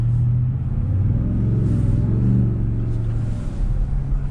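Supercharged Ford Shelby F-150 crew cab truck rated at 775 horsepower, its massive blower engine holding a steady, loud, deep rumble that swells slightly as it revs, with no talk over it.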